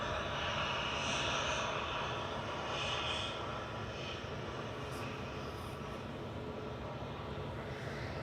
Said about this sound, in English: That's an A320 Neo today.